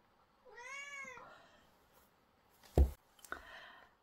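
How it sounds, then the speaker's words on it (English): A house cat gives one clear, drawn-out meow up close, followed by a couple of sharp knocks or taps during an adult coloring session. "sorry, my kitty is meowing."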